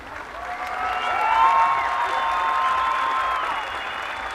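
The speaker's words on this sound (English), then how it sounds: "Round of applause from the crowd." Crowd applause at a Red Bull Cliff Diving World Series event held off a bridge, a steady broad wash of clapping swelling then holding, with faint tonal whistles or horns and crowd noise mixed in.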